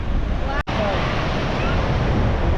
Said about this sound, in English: This wind is insane right now.